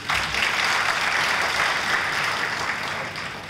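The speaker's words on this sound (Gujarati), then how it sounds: "આપણે એમને તાળીઓથી વધાવીએ." Applause from an audience at a Shree Mumbai Jain Yuvak Sangh lecture event, a dense, steady wash of many hands clapping that fades slightly toward the end, with no talking over it.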